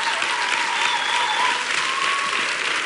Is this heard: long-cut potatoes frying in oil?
no